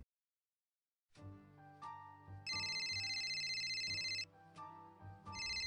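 An office telephone rings in repeated electronic bursts, loud shrill trills alternating with lower tonal pulses, starting after a silent second and recurring steadily.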